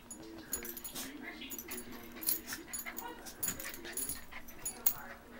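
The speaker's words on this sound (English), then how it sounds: "all she'll do is stand on the sidelines and yip, yip, yip." Poodles play and tussle with rapid high yips and small whimpers, faint and busy throughout, mixed with scuffling.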